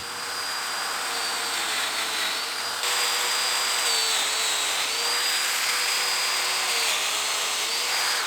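Domino joiner cutting into salvaged timber for a chair seat joint, a steady high-pitched motor whine held close and loud for several seconds.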